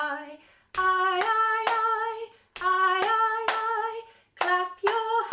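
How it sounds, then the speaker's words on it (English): Sharp handclaps land in a steady rhythm over a sung melody during a group singing session, a few claps per phrase, close and clear, pausing between phrases. "clap your hands and wave goodbye"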